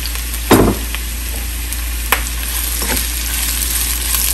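Chopped onions fry in a pan for a drumstick fry dish, giving a steady broadband sizzle with a few louder stirring scrapes near the start and middle, close and alone.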